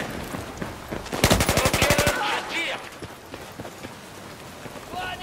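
Rapid automatic gunfire in the video game Battlefield 4, a loud burst of closely spaced shots lasting about a second, followed by quieter scattered game sounds and someone speaking.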